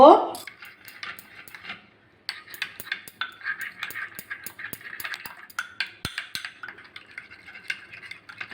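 Spice paste with ginger paste and a little sugar being mixed into sour yogurt in a bowl: a spoon scrapes and clinks against the bowl in quick, close, irregular strokes, without any talking.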